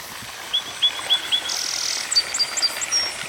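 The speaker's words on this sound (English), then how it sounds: "I hear a cardinal in the background." Clear, whistled northern cardinal notes repeat in a short series against a hissing background of insects in an early-summer garden, fairly distant.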